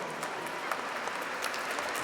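Congregation in a church applauds a winning team, a continuous broad patter of many hands clapping at moderate distance, even and unbroken.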